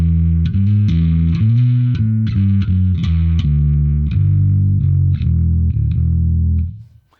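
Distorted bass guitar through a Blackstar Unity 700 bass amp, playing a steady run of thick, gritty sustained notes with a chorus-like shimmer, loud and continuous before fading out at the end.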